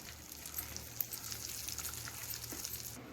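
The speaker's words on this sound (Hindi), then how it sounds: "अब हम इसमें काजू को डालेंगे रोस्ट करने के लिए। इस तरह से इसको अच्छी तरीके से रोस्ट कर लेंगे।" Cashews roast in ghee in a pan with a soft, steady crackling sizzle and light stirring noises, quiet and close, without speech.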